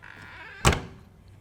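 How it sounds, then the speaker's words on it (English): A single solid trailer door thud, close and sharp, with a brief rattle as it shuts, in an otherwise quiet space. "I'm going to close this door"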